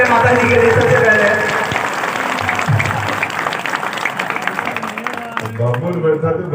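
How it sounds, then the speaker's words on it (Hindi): A crowd at a political rally in India bursts into loud applause, dense clapping carrying on under a voice speaking over a public address system and other voices in the crowd. "एक बार जोरदार तालियां हो रही है माता जी के लिए सबसे पहले।"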